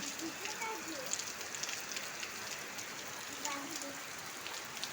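Light rain falls outdoors in a soft, constant hiss with scattered drop taps, faint in the background while people talk over it.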